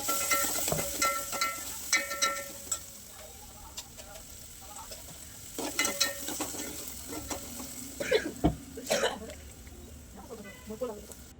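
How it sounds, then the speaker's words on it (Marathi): Chopped onions fry in hot oil in a pot in a home kitchen, giving a soft, steady sizzle broken by stirring clinks and scrapes, while a person talks. "तेल टाकत ठेवले त्याच्यात घातले मी कांदो तो व्यवस्थित लाल होईल त्यांना परतून घेतले"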